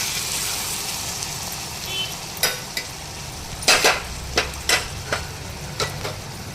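Fenugreek leaves stirred in a pan over low heat for mutton keema curry, giving a soft continuous sizzle with a series of sharp spoon scrapes and taps against the pan, close and clear, with no voices.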